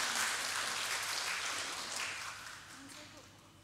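An audience at a church worship gathering claps in a dense patter that starts loud and gradually thins and fades, with faint voices underneath.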